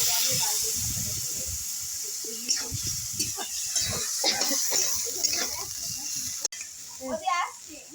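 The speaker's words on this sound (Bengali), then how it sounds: "আমি একটু সামান্য জল দিয়ে দেবো" A little water poured onto frying spices for a prawn and pumpkin curry sends up a hissing, spitting sizzle with stirring clatter, while someone speaks over it.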